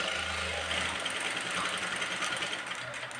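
A sewing machine stitches salwar fabric, running in a steady, continuous mechanical whir that holds close and even from start to finish with no voices.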